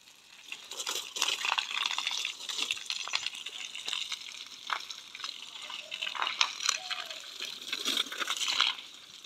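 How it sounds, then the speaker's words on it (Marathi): Water is sprayed onto fresh masonry at a village temple under renovation, a hissing, splattering spray that comes in uneven bursts and pulses, fairly close, with faint talk in the background. "गुरवालेत पाणी मारतायत."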